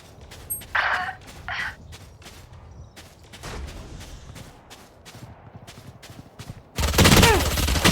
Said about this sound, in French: Je lance une grenade à essaim.